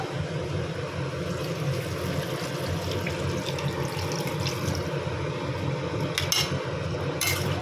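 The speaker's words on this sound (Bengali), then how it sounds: "একটু জল দিয়ে দিলাম" Water pours into a pot of cauliflower, potato, pea and fish curry, a steady, continuous rush of liquid close by, with a few sharper clatters near the end and no speech.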